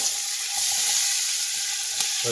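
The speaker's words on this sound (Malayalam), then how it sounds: "അപ്പോൾ നമ്മൾ സവാള ഇടുവാണ്" Onions dropped into a hot pan for biryani sizzle loudly and continuously, a close, bright hiss with faint bubbling underneath and no voices.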